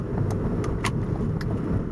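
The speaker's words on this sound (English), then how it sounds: "Sorry, I'm driving to work." A car drives on the road, heard as a steady low rumble of engine and tires from inside the vehicle, with no variation over two seconds.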